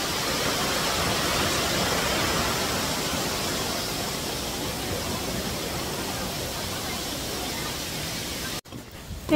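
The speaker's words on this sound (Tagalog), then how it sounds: "Ayan guys, nandito tayo sa Shifen Waterfalls" Steady, loud roar of falling water at Shifen Waterfalls in Taiwan, a broad continuous wash filling the scene for nearly the whole stretch before cutting off abruptly near the end.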